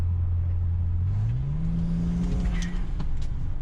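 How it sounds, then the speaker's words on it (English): A BMW 335 with a Flowtech Raptor exhaust revs up, its engine note climbing and holding steady with turbo whoosh, close and continuous with no talking. "She's much quieter. You can hear the turbos a lot more instead of the exhaust."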